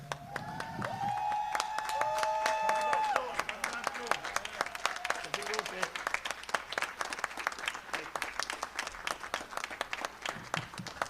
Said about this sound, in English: we stand up and we clap for Dr. Dorn.